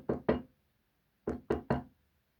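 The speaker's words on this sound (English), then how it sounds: "somebody was knocking on the door." Knocking on a door comes in two sharp raps, a short pause, then three more, crisp and close against silence.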